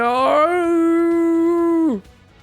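A voice imitates a dog howl, sounding one long, loud, sustained rising-and-holding wail that drops off sharply at the end, followed by quiet.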